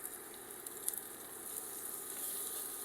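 Steady, bright sizzling of pork tenderloin searing in a hot pan, a continuous crackling hiss with small pops, no voices.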